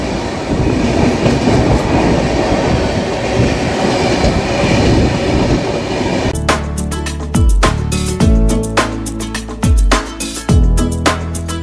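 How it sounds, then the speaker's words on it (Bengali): North East Express train 12505 rolls into Ghaziabad Junction: steady loud rumble of the approaching train, then a rapid run of sharp wheel clacks over rail joints with low thuds, close by. "এনজিপি থেকে প্রায় 1442 কিলোমিটার ক্রস করে আমাদের ট্রেন এসে পৌঁছলো গাজিয়াবাদ জংশনে"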